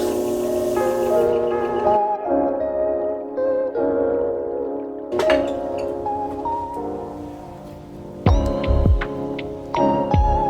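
A spinning potter's wheel with clay pressed slowly against the bat gives a steady motor hum and wavering squeaky tones, with a few heavier thumps near the end and no talking.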